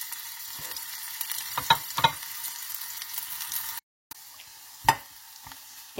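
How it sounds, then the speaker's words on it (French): Onion and garlic frying in oil in a small saucepan, a steady close sizzle throughout with a few sharper pops and stirring clicks and a brief silent gap midway. "dans une petite casserole, je rajoute l'huile, je vais mettre l'oignon"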